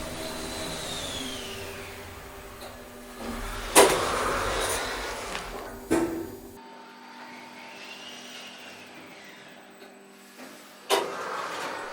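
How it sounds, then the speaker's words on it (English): An old lift at the Flaine ski resort, its original motor room machinery giving a steady whirring drone like a hairdryer, with a few clunks and knocks along the way and one sharp cutoff midway before it resumes. "the lift sounds like a hairdryer"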